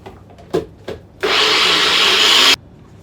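A motorized blender whirs steadily for about a second and a half, mixing flour, nutmeg, salt and pepper for pastry, preceded by a couple of soft knocks and clatters.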